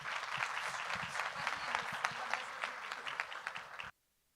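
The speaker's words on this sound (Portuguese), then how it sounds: "Uma salva de palmas." Audience applause at a literary event: dense steady clapping from a seated crowd, fairly loud, cutting off abruptly before the end.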